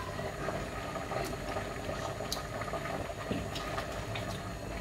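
Spaghetti simmering in a pot of boiling water for a pasta carbonara-style dish, a steady close bubbling and churning with scattered pops and small splashes, continuous and moderately loud with no talk.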